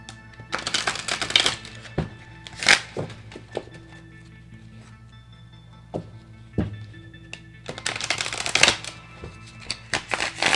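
Tarot cards are shuffled by hand in close, crisp riffling bursts, with a long flurry near the start and another near the end, separated by scattered taps and soft thuds of cards against a surface, with no talk.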